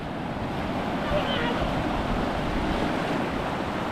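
A continuous roar of big surf and crashing waves on a beach at Ras Al-Khaimah, with wind buffeting the microphone, loud and steady, with no clear talking.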